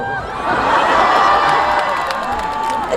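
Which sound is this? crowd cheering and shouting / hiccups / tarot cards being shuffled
crowd cheering and shouting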